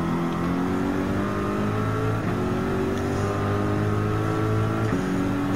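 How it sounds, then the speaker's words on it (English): A 2018 Ford GT race car in Gran Turismo 7 roars steadily along a straight at high revs, with a loud continuous engine drone and brief pitch drops at the gear shifts. "the 2018 Ford GT race car is now going in to be on the second curb straightaway"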